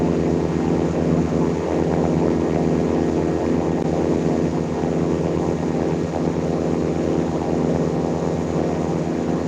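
A propeller airplane engine drones steadily in Infinite Flight while the aircraft holds short of a runway, a constant, even hum with a fixed low throb and no change in pitch.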